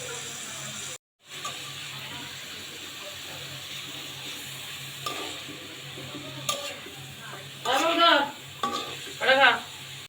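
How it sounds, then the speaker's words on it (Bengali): Chopped vegetables fry in cooking oil for restaurant-style pasta, giving a steady, moderate sizzle with occasional stirring scrapes after a brief cut to silence. A voice briefly speaks near the end. "এখন আমরা আমাদের কেটে রাখা সবগুলো ভেজিটেবল কুকিং অয়েলের সাহায্যে ভেজে নিব"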